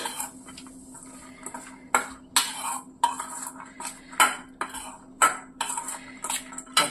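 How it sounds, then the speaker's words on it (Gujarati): A spoon clinks and scrapes against a bowl while chori chaat is stirred with red chilli, irregular sharp metallic taps and pings over several seconds, close and clear. "આપણે આ સરસ રીતે ચારને મિક્સ કરી દઈશું"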